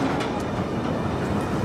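Roller coaster train at Six Flags Great Adventure during Holiday in the Park, a continuous loud rumble and roar from the track that holds steady throughout, with no talking.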